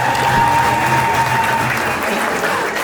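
An audience claps in a dense, loud sustained round of applause that fades slightly toward the end, with a faint voice underneath.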